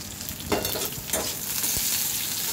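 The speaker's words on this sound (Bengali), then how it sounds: "সামান্য একটু হলুদ দিয়ে বেগুনটা আগে ভেজে নিয়ে তুলে নিচ্ছি।" Thick pieces of tender eggplant with a little turmeric fry in hot oil, a loud continuous sizzle close by, broken by a couple of sharp stirring scrapes.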